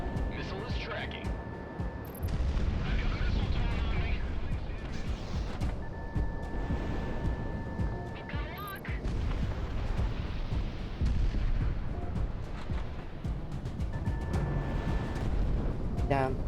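Missiles launching and explosions booming in the flight combat game Project Wingman, repeated heavy blasts and rumbling bursts with high warning tones, loud and dense, with a voice talking over the action.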